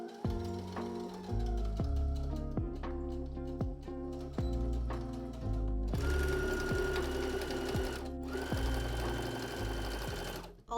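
Sewing machine stitching the side seams of a handmade outfit, running in steady bursts of rapid mechanical chatter with brief pauses between runs, close and alone with no talk.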